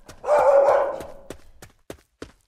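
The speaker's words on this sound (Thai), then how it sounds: "เสียงเห่าอยู่ตรงซ้ายมือครับ" A dog in the video game Urayama lets out one loud, harsh bark nearby, followed by a few sharp taps and clicks.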